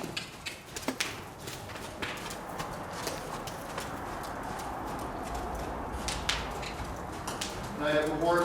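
Hooves of a horse at a trot beat out a steady rhythm on the ground during a riding session, faint and under a soft background with some talk.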